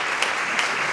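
Brief burst of steady audience applause greeting Reggie Jackson at a book talk and signing, dense and even throughout with no voices over it.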